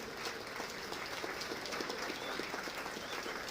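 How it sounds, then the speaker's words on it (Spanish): Audience at a security conference panel applauding to welcome three speakers, a soft, fairly distant spread of many hands clapping steadily with no talk over it. "Les pido un fuerte aplauso para recibir a estos 3 expositores"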